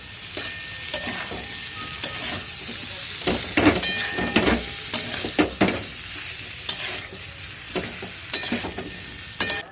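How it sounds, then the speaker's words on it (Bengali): Cauliflower and potato roast frying in a pan, a constant sizzle with repeated scraping stirs and clanks of the spatula, close and fairly loud, with no talk. "এদিকে ফুলকপি রোস্টটা আমি চাপাচ্ছি"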